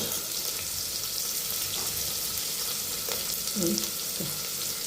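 Sesame seeds crackle and fry steadily in hot oil for a vegetable pulao, a dense continuous sizzle with a few louder spatters and scrapes near the end.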